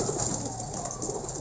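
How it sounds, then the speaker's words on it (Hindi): Sialkoti pigeons cooing close by, soft repeated coos over a low background hum. "इनमें से चंद एक कबूतरों का आपको शो करवा देता हूँ"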